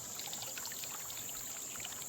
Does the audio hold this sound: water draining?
yes